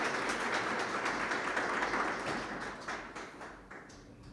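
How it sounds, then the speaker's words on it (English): An audience applauds to welcome a speaker at a creative laboratories talk, a steady crowd of clapping hands at medium distance that gradually fades out toward the end. "Please welcome him with a round of applause."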